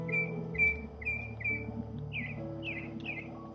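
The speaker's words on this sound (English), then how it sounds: "Hear the birds?" Birds chirping outside a home in Summerlin, with a series of clear whistled tweets, four similar notes followed by three shorter rising calls, faint over a low background hum.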